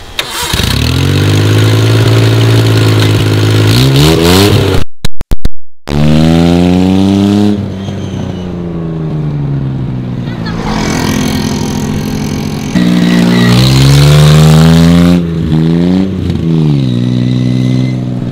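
Custom 800cc motorcycle making a fly-by: a loud engine roars and revs, cuts out briefly, then passes through several swelling and fading acceleration runs with changing pitch, heard up close without speech.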